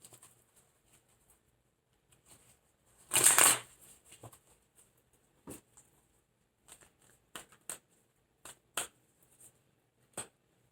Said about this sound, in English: So let's get some cards for, get some cards for clarification.